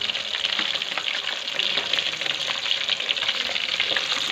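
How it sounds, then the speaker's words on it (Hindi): Fish pieces fry in hot oil in a pan for a fish curry, giving a continuous dense sizzle and crackle, close and steady throughout, with no voices. "देख सकते हैं कि इसको मैंने फ्राई कर लिया है सारी को"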